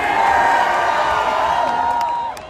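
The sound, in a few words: crowd cheering at Trump rally in Washington D.C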